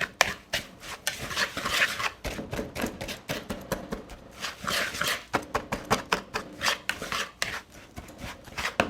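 Dry ingredients for a keto blackberry cobbler, including granular sweetener and salt, are mixed briskly in a bowl, giving a steady run of close, rapid clinks and scrapes.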